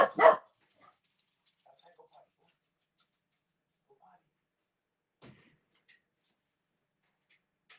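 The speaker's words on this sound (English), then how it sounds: "I gotta let my dog out." A dog gives a short burst of loud, close barking right at the start while being let outside, then only a few faint, scattered whimpers and small noises follow through long near-silence.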